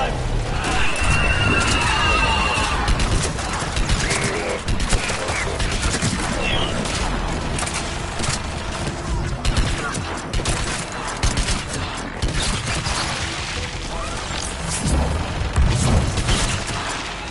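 Missile launches and explosions from a combat video game, a dense, continuous barrage of booms and rattling gunfire running loud throughout, with voices speaking over the din.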